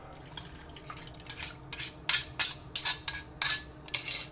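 A spoon stirring chicken broth into picada in a bowl, giving a series of quick clinking, scraping strokes that grow louder and faster, close up, with no talking.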